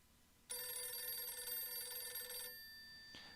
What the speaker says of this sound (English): Which one's ringing? The regular phone.